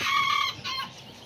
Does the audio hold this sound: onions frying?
no